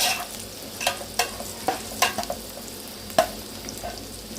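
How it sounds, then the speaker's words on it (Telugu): Prawns frying in hot oil in a pan, a steady sizzle broken by sharp pops and spatters every half second or so, close and fairly loud with no talking. "ఆయిల్ అయితే మనకు బాగా వేడింది కదా, కడుగు పెట్టేసుకున్న రొయ్యలు వేసేసుకోవాలి."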